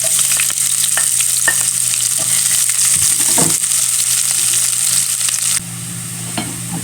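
Onions sizzle steadily in a hot frying pan for pininyahang manok, with a utensil scraping and tapping as they are stirred, a loud continuous hiss close by that drops a little near the end.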